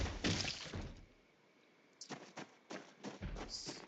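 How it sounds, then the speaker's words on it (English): Several dull thuds of a zombie banging on a wall or door in a survival video game, coming in an irregular series of knocks in the second half after a stretch of quieter, muffled noise. "I hear one banging on a wall or a door."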